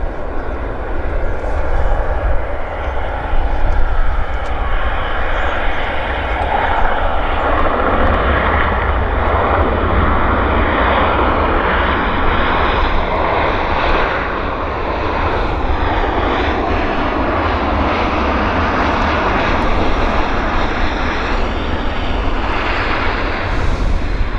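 Airplane landing at Vancouver YVR airport, a loud, steady aircraft engine roar that holds for the whole stretch with only slight shifts in pitch, heard alone without voices.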